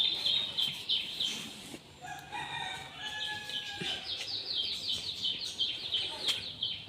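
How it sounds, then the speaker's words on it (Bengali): Chickens in a backyard coop where desi hens lay eggs cluck and call, a rooster-like crow rising midway, steady bird chatter throughout at moderate distance with no talking. "এটা মুরগির একটা ঘর।"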